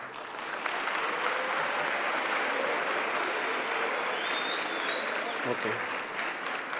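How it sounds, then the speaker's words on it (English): An audience at a launch of technologies for people with disabilities applauds the learners with sustained, dense clapping throughout. Faint voices sit underneath, and a brief spoken word comes near the end. "a round of applause to the most important guests"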